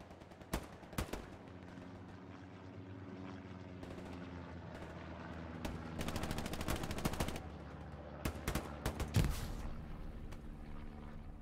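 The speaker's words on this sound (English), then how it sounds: "Just putting suppressing shots down" Suppressing gunfire in the tactical shooter game Squad on the Hill 400 map: bursts of rifle and machine-gun shots crack out in clusters over a steady rotor drone from a helicopter, with short volleys repeating at irregular intervals.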